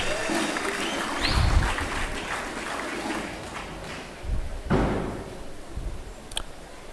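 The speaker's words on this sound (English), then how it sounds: "Ladies and gentlemen, another round of applause for the visitor." A convocation audience at Admiralty University of Nigeria claps for a visitor, a steady rough patter of applause across the hall with a few heavier thumps and knocks breaking through.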